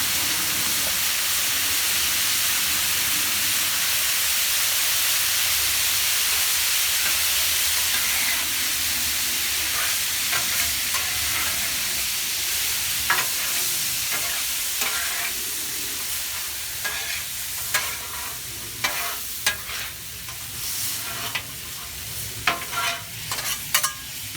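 Cup noodles stir-frying on a Blackstone griddle give off a loud, steady hiss of sizzling with steam, and toward the end rapid scraping clicks of spatulas tossing the noodles grow more frequent.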